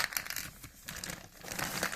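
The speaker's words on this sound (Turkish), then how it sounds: "Poşeti yırtacağız." Close-up crinkling of a plastic bag, irregular rustling bursts with brief pauses between handling movements.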